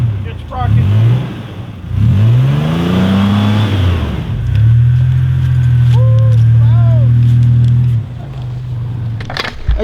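A stuck truck's engine revs in repeated surges while pulling free in the cold, then holds a steady loud drone before easing off, with voices talking close by.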